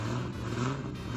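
A Toyota Supra engine runs in a steady, dense, close rumble with a droning tone for just over a second, loud and unbroken, with no one talking.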